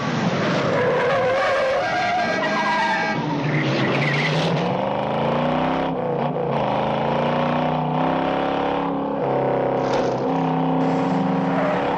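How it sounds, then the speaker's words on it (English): A Dodge Charger and Ford Mustang chase each other in the 1968 film Bullitt, loud revving engines rising and falling in pitch with screeching tires, continuous and close, without talk. "the Charger vs. Mustang chase from"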